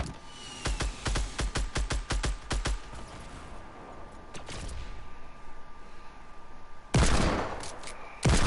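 Rapid bursts of gunfire in the battle royale game Fortnite, a quick string of sharp shots followed by a sustained loud volley, with no talking.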